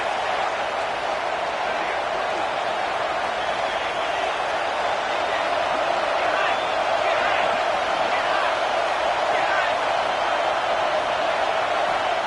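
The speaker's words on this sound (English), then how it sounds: "This crowd, full throat, splitting the eardrums and letting them know it's going to be a long day." A packed football stadium crowd at an Ole Miss game roars in a dense, unbroken wall of noise that stays loud and steady throughout.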